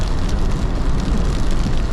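A car drives at moderate speed through slush and rain during a blizzard in Anniston, Alabama, making a steady, loud wash of tire spray and road rumble heard from inside the vehicle.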